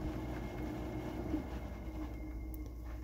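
A Haier 5,000 BTU window air conditioner hums steadily with a low drone and rushing air, while the fan slings water in a faint, continuous rattling patter.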